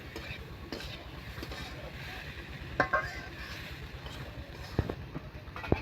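Masoor dal being stirred in a pan for a bhuna, with scraping and soft knocks of a utensil against the cookware at an uneven pace over a steady background hiss.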